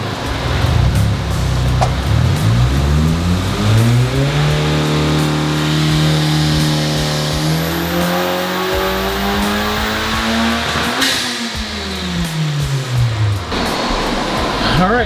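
A 2024 Honda Civic Type R running a new flash tune on a dyno revs hard and loud, its engine note climbing steadily, easing briefly, then sweeping up again before dropping off near the end.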